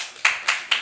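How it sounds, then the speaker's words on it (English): Audience members at a university hub launch give three sharp, separate claps about a quarter second apart, close and fairly loud, with no talk over them. "Let us give him a clap."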